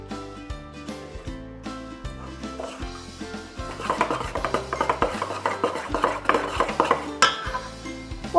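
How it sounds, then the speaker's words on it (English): Batter with salt, lemon juice and almond extract mixed in a bowl until smooth and creamy, rhythmic scraping and clinking of a utensil against the bowl, close and growing busier partway through, with background music. "Mix together until it's smooth and creamy."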